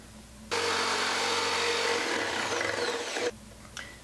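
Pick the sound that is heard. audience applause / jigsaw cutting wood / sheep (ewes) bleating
jigsaw cutting wood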